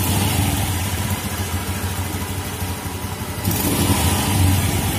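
A motorcycle engine runs loud and close, holding a steady throbbing idle before the throttle is blipped and the revs rise and swell near the end.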